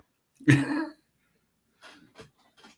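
A single loud, close cough bursts out, followed by a few faint, brief noises after a pause.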